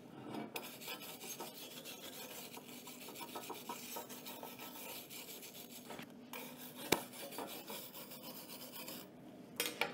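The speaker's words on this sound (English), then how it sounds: "use your wire brush again and give it a good clean" Steady rasping scrub of a wire brush cleaning a freshly welded metal part for a desk organizer, continuous close strokes running for several seconds with a couple of brief pauses and a sharp tap near the end.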